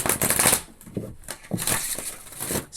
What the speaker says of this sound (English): Let's give them a big shuffle.